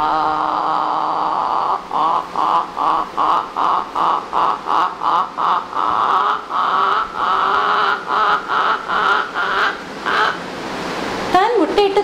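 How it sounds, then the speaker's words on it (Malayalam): A domestic hen gives a run of rhythmic, repeated clucking calls before laying an egg, about fifteen evenly spaced notes at close range, ending in a brief louder burst. "ഒരു വീട്ടിലെ പിടക്കോഴി മുട്ടയിടുന്നതിന് മുൻപ് കേൾപ്പിക്കുന്ന ശബ്ദം."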